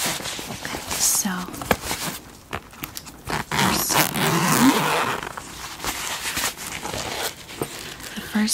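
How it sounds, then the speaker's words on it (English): A small electronics pouch with two zipper compartments gives off short raspy zipper pulls and soft handling rustles, close to the microphone, under quiet soft-spoken talk. "It's a little pouch like this, and it has two zipper compartments."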